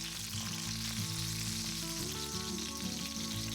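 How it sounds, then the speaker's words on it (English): Spring rolls with a seafood filling fry in oil, a dense, continuous, loud sizzle with a low steady hum underneath, no voices. "We'll fry each roll for 3 to 4 minutes per side, rotating until each side is crisp and golden."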